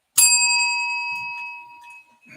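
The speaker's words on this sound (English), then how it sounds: "that is a bell, right?" A small bell struck once, ringing with a bright clear tone that sustains and slowly fades over about two seconds, close and loud with a faint handling sound at the end.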